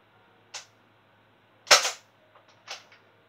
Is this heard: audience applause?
no